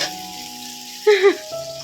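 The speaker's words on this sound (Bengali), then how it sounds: "এখানে 5 রকমের ভাজা হচ্ছে। পটল ভাজা, কাঁকরোল ভাজা, বেগুন ভাজা।" Slices of pointed gourd, teasel gourd and eggplant fry in hot oil with a steady, close sizzle, briefly interrupted midway by a louder sputtering burst before the hiss settles again.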